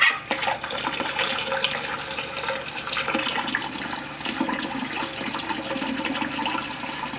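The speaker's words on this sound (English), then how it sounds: "We're going to flush it about 3 or 4 times." Toilet flushing, then the tank refilling during a repair of a leaking toilet, a continuous rushing, gurgling water sound at close range that runs steadily without talking.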